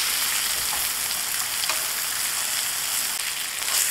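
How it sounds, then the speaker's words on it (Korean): Pork chop frying in a little oil in a pan, a steady close hiss and sizzle with faint crackles throughout, no voices. "기름이 약간 있어야 갈색도 좀 잘 나고 노릇노릇하게 구워집니다."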